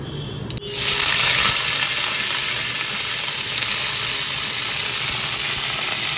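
Nigella seeds and pui mituli hit hot oil in a pan with a brief clatter, then a loud, continuous sizzle and hiss that holds steady without letup.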